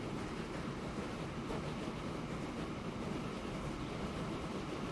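A freight train bound for a fuel refinery runs in the Transport Fever 2 simulation game. It makes a steady, broadband rumble and rushing roar, even and continuous, with no talk over it.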